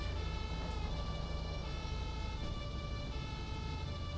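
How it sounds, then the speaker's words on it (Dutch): A fire engine siren in the GTA 5 video game wails steadily and loudly over a constant engine drone, with no talk. "Brandweer sirene. Mooi ding."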